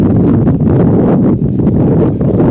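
Strong wind at a mountain-top radio site on Canoe Mountain buffets the microphone with a loud, continuous, gusty rumble and roar.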